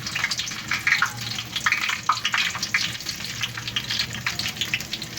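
Cumin seeds go into hot oil for a vegetable pulao, giving a close, steady sizzle with dense crackling pops that flare and settle.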